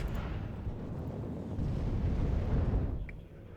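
Artillery fire in the video game Warno, a heavy, continuous low rumble of distant barrage, dense and booming without distinct separate shots, fading slightly at the end.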